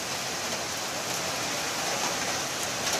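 Steady rain lashes down with strong wind in the Sullurpeta area of Nellore district, a dense, even roar of drops on surfaces, loud and continuous without a break.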